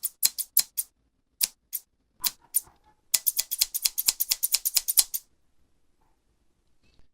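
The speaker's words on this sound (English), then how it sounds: "It is a pair of scissors." A pair of scissors snips alone in a quiet room: sharp, crisp clicks, first a few spaced cuts, then a rapid run of closely repeated snips before stopping.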